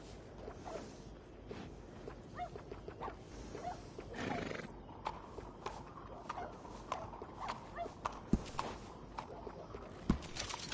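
A horse neighs and its hooves clop on the ground in Red Dead Redemption 2, a loud whinny near the middle amid a steady, close series of hoof strikes over outdoor ambience.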